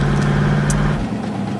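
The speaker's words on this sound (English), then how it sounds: "They shut off the engine." An idling car engine hums steadily, then cuts out, leaving a quieter hiss behind.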